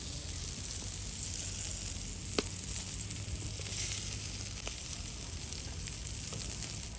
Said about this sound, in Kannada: ಸೂಪರ್ ಆಗಿ ಬಂದಿದೆ ಮೀನು ಫ್ರೈ, ಅದು ಕೂಡ ಸೌದೆ ಒಲೆಯಲ್ಲಿ ಫ್ರೈ ಮಾಡಿದ್ದು